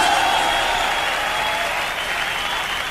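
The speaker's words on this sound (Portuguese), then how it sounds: "Eu quero que vocês também batam palmas pra mim" Dense, loud applause from a large audience at the Montreux Jazz Festival during a 1997 concert, sustained evenly throughout with steady crowd noise and no voices standing out.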